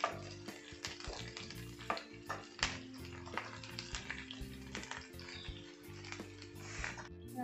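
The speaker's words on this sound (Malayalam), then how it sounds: "വഴറ്റി കൊടുക്കാം." Chopped ginger and garlic sautéing in a pan over a very low flame, quiet sizzling with frequent clicking stirs and scrapes of a utensil against the pan.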